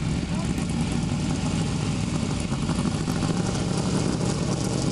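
Engines of NEMA Lite race cars at a New England speedway roar steadily and loudly throughout, a continuous broad drone with a voice faintly audible beneath it.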